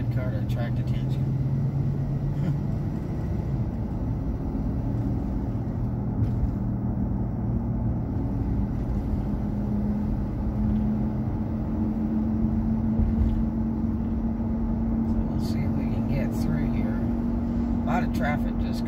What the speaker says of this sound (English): Traffic just going over the bridge to the island.